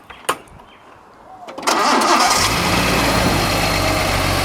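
A Datsun 280ZX engine cranks and catches after a clogged part was cleared, then settles into a loud, steady idle running slightly high, close by with no one talking.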